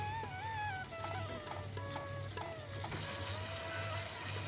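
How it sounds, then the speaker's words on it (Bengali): Spice paste for a raw banana kofta curry fries in oil, giving a steady, close sizzle with faint whistling tones running over it throughout. "পেস্টটা তেলেতে ভালো করে কষিয়ে নেবো যতক্ষণ না কাঁচা গন্ধটা চলে যায়"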